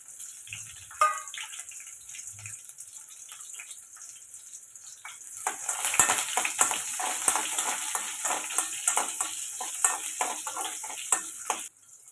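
Mustard seeds, cumin, garlic cloves, onion and green chilies frying in a pan for dal rice: a faint hiss builds into a louder sizzle with frequent small crackles and pops, then cuts off near the end.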